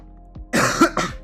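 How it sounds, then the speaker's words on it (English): A single short cough with a throat-clearing quality sounds close and loud, a couple of rough bursts in quick succession with no talk around it. "get out your coughs"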